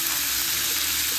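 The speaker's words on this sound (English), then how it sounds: "Then we're gonna go ahead and add our steak." Thin ribeye steak sizzles in a pan with peppers, onions and garlic, a loud, steady, close crackling hiss with no pause.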